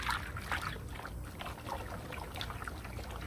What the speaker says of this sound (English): now I've got this liquid down here. And I'm gonna just mix it around